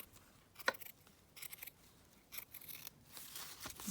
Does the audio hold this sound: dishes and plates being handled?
no